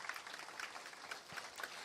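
Faint, steady applause from the audience at an October campus ceremony in Saint-Jérôme, greeting the pianist; a soft continuous patter of clapping, heard from a distance.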